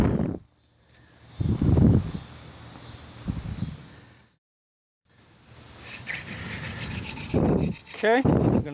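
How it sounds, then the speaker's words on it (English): Horseweed spindle hand drill spun against a white pine board in bursts of rasping friction, with loud rubbing strokes separated by pauses, close and alone outdoors. "I'm going to use the horseweed spindle, hand drill."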